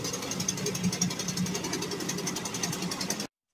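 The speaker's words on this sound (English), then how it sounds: "I'm hoping the shaft is straight enough that bad things don't start happening as soon as I start it." A Predator 212 small gasoline engine mounted on a home-built long-tail outboard motor chugs at a fast, even rhythm. It is close and steady for about three seconds before cutting off abruptly.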